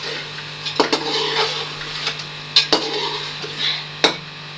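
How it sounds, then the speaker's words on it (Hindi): A spoon stirs chicken with tomato, ginger-garlic paste and spices in a metal pot, giving a soft scraping swirl with a few sharp clinks against the rim over a steady low hum. "और जी अब इसे हिला देते हैं"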